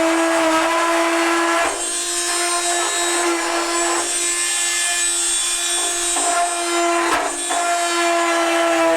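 A Dremel rotary tool runs steadily at close range while working on an LG front-load washer drum, giving a high, even whine with slight dips in pitch as it meets the material.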